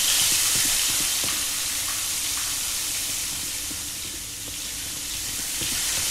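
Loud rushing tap water pours steadily in Trepang2, a broad continuous hiss close by with no pause and no voices.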